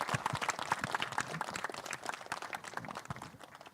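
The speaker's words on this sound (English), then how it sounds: "a big round of applause to the complete team." A small group claps for a team at a session. The claps come in a light, uneven patter with individual hand strikes easy to pick out, fairly quiet and a little distant, and no speech is heard.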